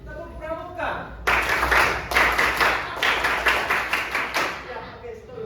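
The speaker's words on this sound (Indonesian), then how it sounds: "Kalau siap, kasih saya 1 kali tepuk pramuka." A class of ninth-grade students performs the scout rhythmic clap, a burst of patterned group clapping that starts after a short spoken cue and runs steadily for about three seconds, mixed with voices.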